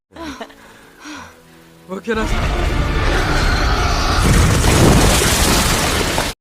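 Film explosion of a gas-filled pit burying anacondas, a sudden loud roaring blast that swells into a sustained rumbling eruption, following brief voices.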